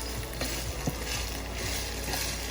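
Onions sizzle and fry steadily in a lightly oiled pan used for fried rice, a constant close hiss with a few soft clinks and stirring scrapes over it.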